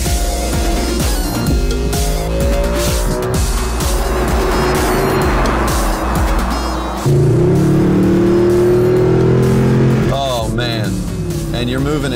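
Mercedes car driving on a track with engine roar and shifting revs, close and loud, a surge of acceleration partway through, while a person talks over it.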